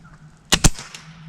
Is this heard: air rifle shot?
yes